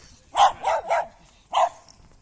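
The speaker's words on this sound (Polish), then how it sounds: "Ładny piesek." A dog barks four times at close range, three quick barks in a row, then a short pause before one last bark.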